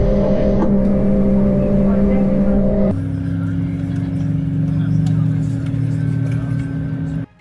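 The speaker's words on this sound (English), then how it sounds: "we have a good start on the right engine." Airliner's right engine spools up on the ground, a loud, steady mechanical hum with strong low tonal bands that shifts pitch abruptly partway through, then cuts off sharply near the end.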